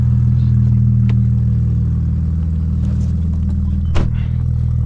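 Audi S4 B5 with a heavily modified 2.7 V6 biturbo running on pump fuel, heard from its exhaust while driving: a loud, steady low drone with a brief sharp pop near the end, no voices.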